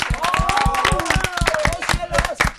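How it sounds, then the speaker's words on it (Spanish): An audience claps for musical guests at a university television event, a dense patter of many hands with brief cheering voices mixed in, under the host's ongoing speech. "Un aplauso, por favor."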